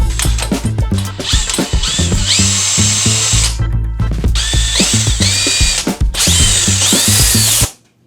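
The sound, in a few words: 5.5-inch hole cutter drilling through MDF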